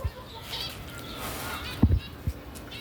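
Chickens kept on a house rooftop, a few low clucks and short calls in quick succession near the end, faint against a steady outdoor background hiss.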